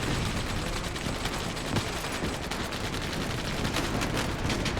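Sustained machine gun fire from a tower position in a Starship Troopers video game, dense and continuous gunfire with rapid overlapping shots throughout, loud and steady, with no clear talk.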